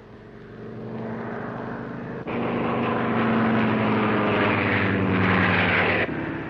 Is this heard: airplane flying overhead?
yes